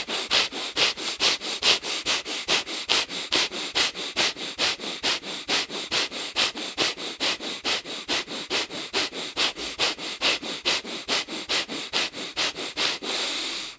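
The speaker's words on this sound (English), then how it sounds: "Deep inhale in through the nose, into the abdomen. Out the nose, and you get pumping. In, out, in, out." Rhythmic yoga breathing through the nose, quick pumping inhales and exhales in a steady fast pulse, close and clear with no talking.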